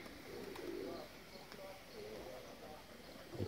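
Pigeons coo softly in a dovecote where a hen is feeding newly hatched squabs. Low, faint, rolling coos repeat against a quiet room background.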